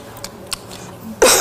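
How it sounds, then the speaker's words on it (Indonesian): A child's cough, a single short loud burst at the end after a quiet lull, in an animated breakfast scene. "aku batuk"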